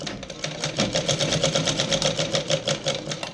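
Close, fast rhythmic chatter of a sewing machine double-stitching a petticoat, evenly pulsing needle strokes running continuously for a few seconds.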